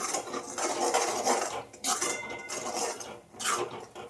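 A metal spatula clatters and scrapes against a pot while mutton is sautéed with masala, in steady close stirring with a few sharper knocks and no talking.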